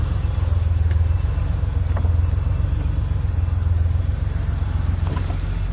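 A 2007 Lamborghini Gallardo with a gated six-speed idles steadily in a garage, its low, even engine drone continuous and close throughout, with a faint light jingle or two on top.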